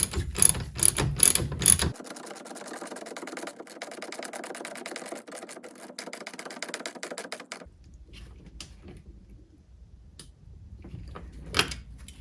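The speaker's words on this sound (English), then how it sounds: "I am going to transition back to my ratchet and socket, again 5/8 on either side, and tighten this nut in place" Ratchet with a 5/8 socket tightening a nut on a Mercruiser Alpha One Gen 1 outdrive trim ram: rapid close clicking bursts, a long run of fine pawl ticks, then a few separate clicks, with no talking.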